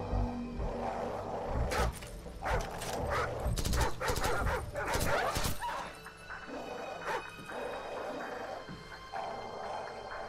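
Dogs bark, yip and whimper in Call of Duty 4: Modern Warfare, loud bursts over the first half against game noise, fading to a quieter rumble, with no talking.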